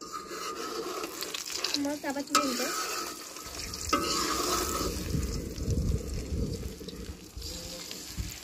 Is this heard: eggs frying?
yes